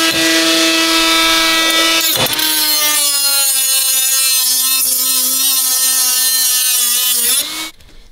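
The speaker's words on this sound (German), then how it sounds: "dann schleife ich da immer einmal damit durch" Loud, continuous grinding whine of an abrasive sanding band on an aluminium intake part for an Audi RS4, a steady harsh tone with a brief dip early on, stopping near the end.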